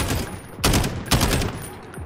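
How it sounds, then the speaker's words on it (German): Gunfire in Call of Duty Warzone: two sharp, loud bursts of rapid shots about half a second apart, with a quieter rattle between and after them. "Ich hab auf ihn geschossen."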